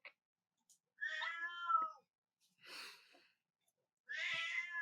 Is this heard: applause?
no